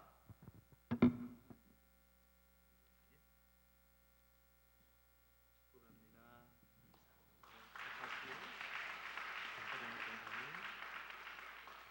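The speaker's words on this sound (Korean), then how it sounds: "여러분 박수로 축복해 주시기를 바랍니다" Inside a church during a Sunday service, the congregation breaks into steady applause for a few seconds near the end, following a sharp knock, a low mains hum and a brief spoken phrase.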